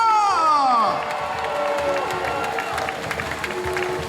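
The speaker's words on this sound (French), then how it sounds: "Je vous demande de l'applaudir encore très fort." A crowd cheers and applauds the record-breaking winner of the 2022 Route du Rhum sailing race, Charles Caudrelier, at the finish, with rising whoops and a sustained roar that settles into steady clapping and shouts.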